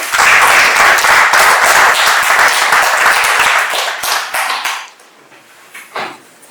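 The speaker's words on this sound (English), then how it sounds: "let's give him another round of applause." Loud, close applause from an audience at a talk on city and town planning in Kenya, dense clapping for about four seconds that thins into a few scattered claps before dying away.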